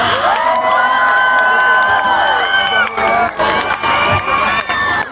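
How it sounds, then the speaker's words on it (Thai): Concert crowd at a show cheering, whooping and clapping loudly and continuously, with shouts rising above a dense roar of applause. "ขอบคุณทุกเสียงร้อง ขอบคุณทุกเสียงปรบมือที่มีให้การตั้งแต่ต้นนะครับ"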